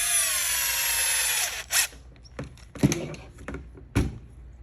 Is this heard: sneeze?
no